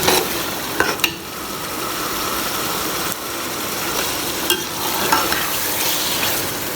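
Chicken frying with spices in a pot for Lahori cholay, a loud, dense continuous sizzle with occasional scraping stirs, close up and without talk.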